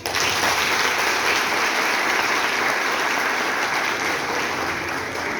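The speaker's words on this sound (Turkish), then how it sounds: "Bir daha alkışlayın bakalım." Steady, dense applause from an audience at a Girne Koleji school event in Edremit, loud and continuous for about five seconds with no break and no voices over it.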